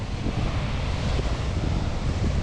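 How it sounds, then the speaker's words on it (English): Large North Sea waves surge and crash beneath a coastal land bridge in Scotland, a loud, continuous roar of surf mixed with heavy wind buffeting the microphone, with no voices. "Look at the size of these waves!"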